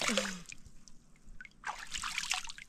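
During a fishing outing, water overflows and trickles out of a full container in faint, uneven splashy bursts, with quiet pauses between them.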